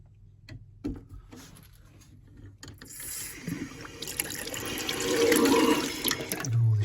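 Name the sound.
water running through a tap being flushed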